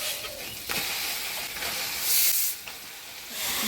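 Chicken pieces tossed into a hot pan of chilli-powder spice paste for a Bengali chicken curry, giving a steady broad hiss and sizzle that swells midway, with no talking.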